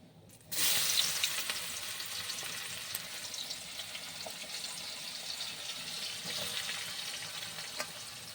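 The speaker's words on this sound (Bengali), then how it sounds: "কিছুক্ষণ পেঁয়াজটাকে এইভাবে নেড়ে চেড়ে একটু ভেজে নেওয়া হবে।" Onions sizzling in hot oil in a pan for chicken kosha, a loud steady fry starting abruptly after a brief quiet moment, with occasional stirring scrapes and no talking.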